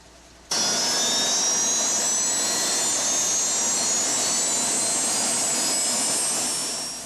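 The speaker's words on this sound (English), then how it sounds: "The chopper is fired up," A police helicopter's turbine engine spools up after a brief quiet moment, then holds a loud, steady whine with rising high-pitched tones, close by and alone without voices, easing off slightly at the end.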